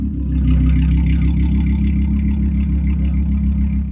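A classic combustion car engine at a historic automobile gathering in Marvejols, Lozère, rumbles steadily and close by with a deep, throbbing low note and slight rises in pitch, with no talking over it.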